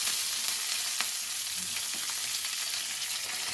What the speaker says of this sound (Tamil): இதில் கருவேப்பிலை சேர்க்கிறேன்.